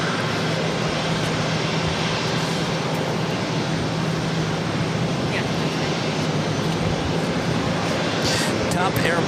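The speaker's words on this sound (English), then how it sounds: "Next takeoff is Southwest Airlines Flight 1223 heading to Nashville, Tennessee" A Southwest Airlines Boeing 737 MAX 8 taking off at Boston Logan, heard as a continuous loud engine roar with a low hum that holds steady throughout, with no break and no talk.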